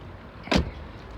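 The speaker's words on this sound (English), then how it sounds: "The doors sound amazing when they close." A single car door shuts with one short, solid thump on a quiet used vehicle at a dealer auction, standing alone against low background hum.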